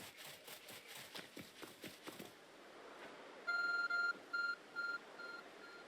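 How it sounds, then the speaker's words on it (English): A glowing phone-like object in Pokémon Legends: Arceus beeps four times in a clipped electronic pattern, following a run of rapid footsteps, loud and close with no talk. "There's a glowing, beeping object over there."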